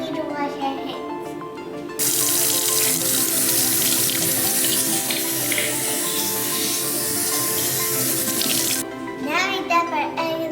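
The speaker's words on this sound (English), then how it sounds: "Now we need to wash our hands." A kitchen sink tap runs steadily for several seconds while hands are washed under it before cookie baking, with a voice and background music around the loud rush of water.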